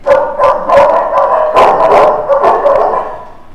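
Dogs bark close and loud, a rapid run of sharp barks and yips with some howl-like drawn-out calls mixed in. The barking comes in quick overlapping bursts and tapers off at the end.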